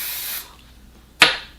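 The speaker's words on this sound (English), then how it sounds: "I love his finishing spray." Makeup finishing spray comes out in two short bursts: a soft hiss that fades, a pause, then a sharper, louder spritz close by.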